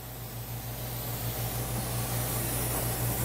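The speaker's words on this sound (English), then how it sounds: "Now the pump makes a little noise as it's inflating." A pump inflating an Orbera intragastric balloon inside a stomach gives off a steady, faint hiss with a low mechanical hum underneath, continuous and even throughout.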